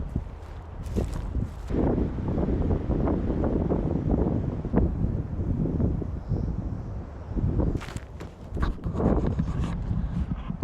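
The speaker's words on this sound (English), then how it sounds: "Wind is blowing." Wind blowing outdoors in muddy pine and cabbage palm country, gusty buffeting rumble against the microphone with irregular thumping bursts, loud and continuous, mixed with soft footstep-like knocks.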